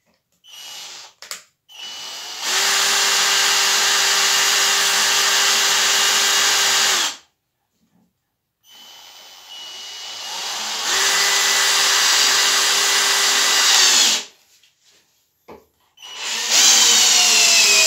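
A Graphite Energy+ 58G010 impact drill-driver drives an 8x220 screw in two long bursts of high whining motor noise, each several seconds long, separated by brief pauses, close and loud with short clicks before and after.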